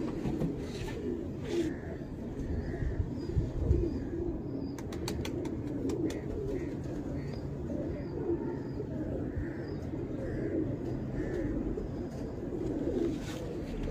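Female slaty pigeon cooing in a loft: soft, repeated low coos spaced through the clip, with faint chirps and a few sharp ticks over a steady murmur of background noise.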